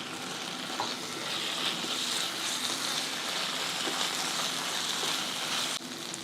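Ginger garlic paste frying in a pan for shahi matar paneer: a dense, continuous hiss and crackle, close and fairly loud, with a faint clink near the end and no voices.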